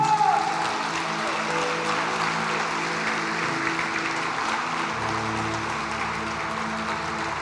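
A church congregation applauds for Jesus during a sermon, steady moderate clapping from a crowd over a soft sustained background tone, fading slightly over several seconds.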